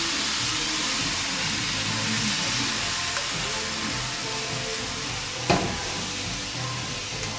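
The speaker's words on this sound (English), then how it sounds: "Alright, so I'm just gonna get all this mince browned" Beef mince, about a kilo, browning in a hot pan with a steady, close sizzle and hiss throughout, plus a brief stir or clatter near the end; no talking.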